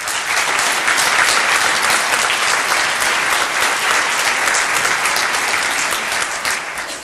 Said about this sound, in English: I think this is worth to be acknowledged with applause